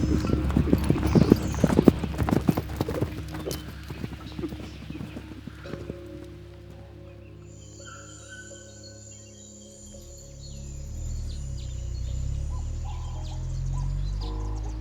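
Horse hooves clip-clop in a quick, close rhythm at a riding stable and then fade out, leaving bird calls and an insect-like whine over a low hum.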